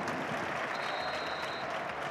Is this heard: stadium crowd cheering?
yes